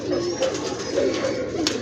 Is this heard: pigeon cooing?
yes